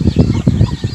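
Mother hens clucking in a backyard poultry setting, a quick series of close, rhythmic clucks in short bursts with no talking.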